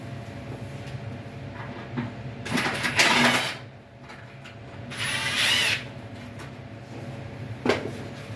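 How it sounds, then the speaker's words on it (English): A power screw gun drives screws into metal dryer vent rings during a DIY dryer vent hose replacement, whirring in two loud close bursts of about a second each, followed by a brief final zip, with quiet room tone between. "I'll take my screw gun."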